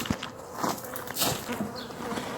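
Honeybees buzzing around a hive close by, a steady insect drone with swelling and fading passes of individual bees, no talking.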